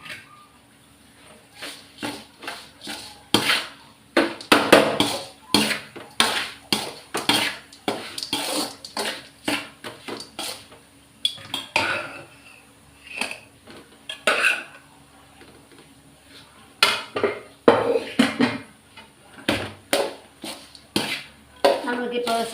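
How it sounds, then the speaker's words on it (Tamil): Cooked white rice being stirred into lemon rice seasoning in a pan, with a spoon scraping and clinking against the metal in irregular bursts, close by and moderately loud. "இதில் நான் ஒயிட் ரைஸை போட்டு கலந்து எடுப்பேன்"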